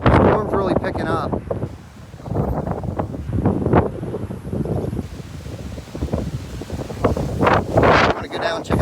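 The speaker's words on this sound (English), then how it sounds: "The storm's really picking up." Strong storm wind gusts buffet the microphone in loud, roaring bursts, with people talking intermittently underneath.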